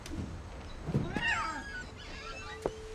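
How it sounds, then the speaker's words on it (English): A cat meows just outside a window in the video game What Remains of Edith Finch, one drawn-out wavering call followed by a short chirp, moderately near over faint game ambience. "there's a cat right outside the window."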